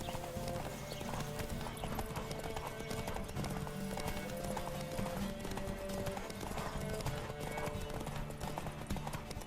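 Rapid galloping horse hoofbeats in the video game The Witcher 3 on PS4 clatter steadily with a horse snorting now and then, over a busy, layered background.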